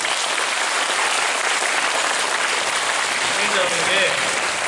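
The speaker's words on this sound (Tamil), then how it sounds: "கைத்தட்டுக்கோ போ." Audience applause at a Christmas celebration: a dense, loud wash of clapping that fills the room without pause, with a few voices rising over it near the end.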